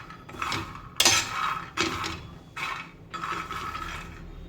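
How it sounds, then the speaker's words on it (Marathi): Peanuts roast over low heat in a pan, shaken and stirred in repeated rattling, scraping bursts about once a second, close and moderately loud with no voices. "शेंगदाणे हे मंद आचेवर मस्त खरपूस भाजून घ्यायचे आहेत."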